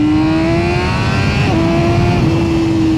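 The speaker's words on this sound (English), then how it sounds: "But this is where the bike starts singing at these sort of" Honda 2025 CBR1000RR-R SP Fireblade motorcycle engine held high at around 8,000 RPM, a loud, steady, near whine with a slight pitch dip midway.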